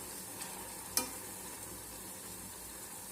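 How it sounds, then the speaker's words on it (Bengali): Amla simmers in homemade coconut oil, giving a soft, steady frying hiss with small bubbling pops and one sharp clink of a stirring spoon against the pan, heard alone with no talk. "এইভাবে বুটবুট করে ফুটতে থাকবে আর মাঝে মাঝে এইভাবে নেড়ে যেতে হবে।"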